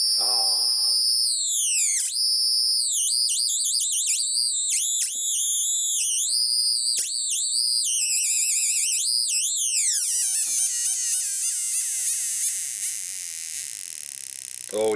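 A light-controlled electronic screamer built from 555 timer chips shrieks with loud, warbling, sweeping tones that rise and fall in pitch and change as the light varies, continuous and close.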